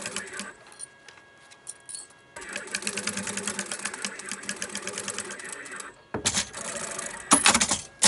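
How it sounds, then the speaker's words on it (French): A sewing machine stitches a seam through recycled denim for a small zippered tech pouch, its rapid mechanical chatter running in bursts with brief pauses between passes. "Et vous venez faire votre couture."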